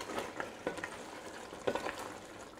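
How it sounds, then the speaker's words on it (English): Braised beef short ribs (galbi jjim) with melting butter are stirred gently in a pot, with a soft continuous sizzle and several light scrapes and wet clicks of a spoon. "Just mix it one more time, gently."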